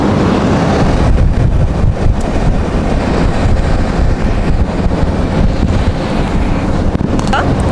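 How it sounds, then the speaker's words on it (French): Strong, steady wind on an open plain in Spain roaring and buffeting against the microphone, a constant low rumble with gusty flutter throughout. "il y a un vent de fou"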